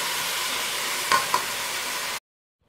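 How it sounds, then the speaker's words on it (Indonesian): Tomatoes being stirred in a hot pan while cooking chicken kabsah, a steady soft sizzle with a couple of brief scraping clicks from the utensil before it cuts off. "Kita aduk lagi sampai campur rata"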